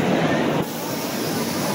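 Loud, steady rumble of a train from Ranchi with broad hiss, shifting slightly partway through as it rolls nearby.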